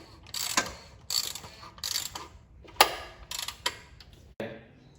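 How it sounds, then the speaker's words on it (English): A hand ratchet clicks in repeated short bursts while tightening the oil filter on a 2011 Toyota Corolla during an oil change, each burst of close metallic ticks separated by brief pauses. "Just tighten away on your oil filter."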